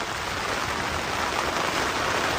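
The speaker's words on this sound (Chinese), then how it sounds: "又开始起风，下这个冰雹加雨了。" Rain and hail fall steadily in windy mountain weather, making a dense, continuous hiss throughout.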